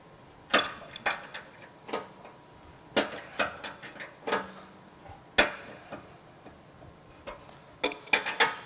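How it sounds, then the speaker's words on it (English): A wrench adjusts the leveling foot on a MacNeil RS-701 SuperFlex wrap-around car wash brush post, giving sharp, irregular metallic clicks and ratcheting ticks in small clusters with quiet gaps between them. "We'll just take our wrench and raise that."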